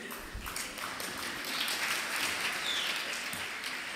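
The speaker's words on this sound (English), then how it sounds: "Loudest applause I got" An audience applauds at the Great Women Achievers Awards gala in the Middle East, a steady wash of clapping lasting the whole stretch at moderate level without voices.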